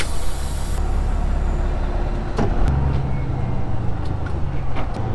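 Steady low engine rumble and road noise from inside a moving truck on a farm, with a sharp clunk and a brief hiss partway through as gears are worked, continuous and fairly loud with no talking.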